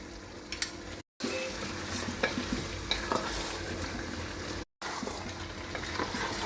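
Onions fry with garam masala and radhuni spice powder in a pan, a continuous close sizzle with scattered spoon scrapes and taps, briefly cut by two short breaks of silence.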